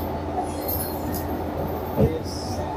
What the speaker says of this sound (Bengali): বিকেল 4:05 ট্রেন আমাদের রাইট টাইমে হাওড়া স্টেশন ছেড়ে দিল।